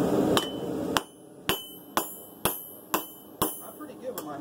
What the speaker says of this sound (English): I'm pretty good with my hammer. I'm pretty good with the hammer blows.